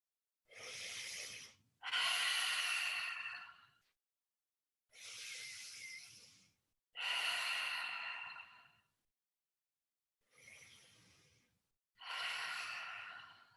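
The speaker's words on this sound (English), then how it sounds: "Inhale through your nose. Exhale," Slow, deep breaths drawn in through the nose and released in long exhales during a guided relaxation exercise, three near, airy breath pairs with silent pauses between them.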